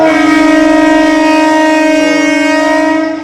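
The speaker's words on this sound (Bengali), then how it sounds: "ট্রেনের হর্ন দিয়ে দিয়েছে" A train horn sounds at Howrah station, one long loud sustained blast held for about three seconds before cutting off, with no talking.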